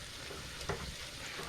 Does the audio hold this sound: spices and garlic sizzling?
yes